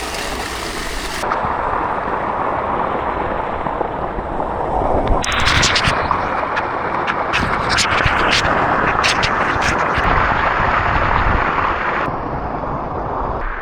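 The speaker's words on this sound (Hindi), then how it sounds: "मुमकिन है यहाँ आप शोर सुनाई दे रहा हूँ क्योंकि हवा भी तेज़ लग रही है और पानी गिरने की भी आवाज़ आ रही है।" At a tube well bath in Karachi, strong wind and falling water make a loud, continuous broadband roar that holds steady throughout.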